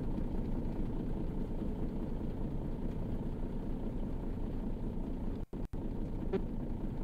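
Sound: truck engine in video game On The Road Truck Simulator

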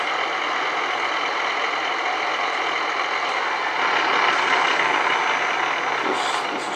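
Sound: old truck engine in video game American Truck Simulator

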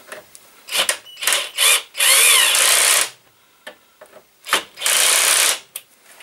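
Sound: cordless drill running in drill mode

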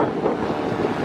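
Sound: ocean waves at the beach

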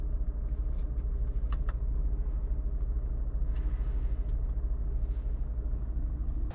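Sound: VW Passat car driving during a test drive

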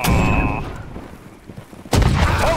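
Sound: musket volley gunfire in Holdfast: Nation At War video game

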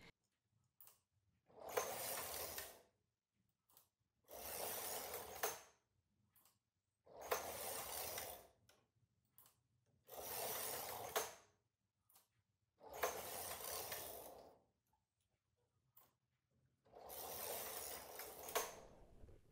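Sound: knitting machine carriage knitting rows

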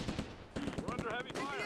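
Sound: MG42 machine gun firing in the video game Close Combat II

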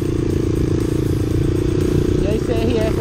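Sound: Honda CRF 230 motorcycle engine, off-road riding

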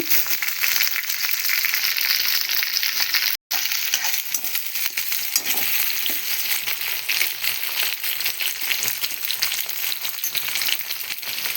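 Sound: drumsticks and curry leaves frying in a pan

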